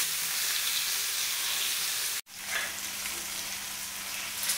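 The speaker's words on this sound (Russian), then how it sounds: "Баклажан уже достаточно пожарился." Eggplant sizzles steadily in a frying pan, a dense continuous hiss broken by one brief dropout midway before the frying resumes, close and fairly loud with no talking.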